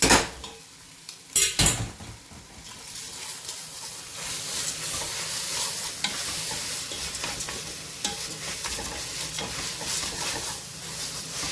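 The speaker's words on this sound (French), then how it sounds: "puis notre riz qui a bien égoutté. Et on va le faire frire aussi" Rice sizzles and crackles steadily in a hot pan while a utensil scrapes and stirs it, with a few louder clatters early on.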